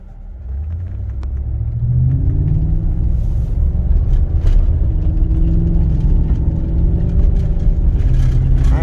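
A tuned Chevrolet Silverado truck drives in sport mode, its engine building to a deep, steady rumble with a faint whir as it accelerates and holds speed.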